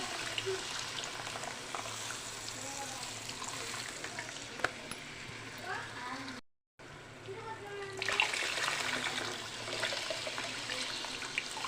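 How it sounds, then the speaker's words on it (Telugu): Tamarind juice goes into a pan of fish curry, bringing a soft splash and a low sizzle and bubble that carry on under quiet talk, with a short silent break midway. "ఇప్పుడు చింతపులుసు పోసుకున్నాము"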